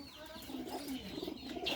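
Racing pigeons coo softly in low, throaty murmurs, several calls overlapping at close range with faint chirps in the background.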